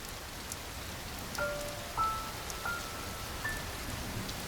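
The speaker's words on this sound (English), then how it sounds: "In the pouring rain" Steady rain hiss with scattered drops, fairly faint and even throughout, a few brief tonal chirps over it, no voices.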